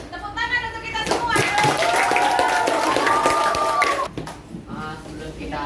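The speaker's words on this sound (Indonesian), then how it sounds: "Tepuk tangan untuk kita semua" Classroom applause, a burst of clapping from a group of students that builds and then fades after a few seconds, with a voice and some chatter mixed in.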